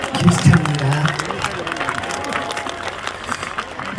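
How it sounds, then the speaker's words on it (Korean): A crowd at a Korean event applauds, a dense wash of clapping that swells briefly and then thins out, with a host's voice in Korean cutting through early on, asking for warm applause. "다시 이분들 앞에 계신 분들을 위해서 다시 한번 뜨거운 박수 좀 부탁드립니다"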